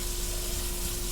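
Breakfast potatoes frying in a pan, a steady, dense sizzle with no pauses, close and moderately loud throughout.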